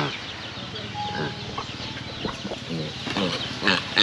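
Roosters and chickens cluck and call behind a house in a Philippine neighbourhood, several birds at moderate distance with scattered clucks and a crow-like call over quiet ambient noise.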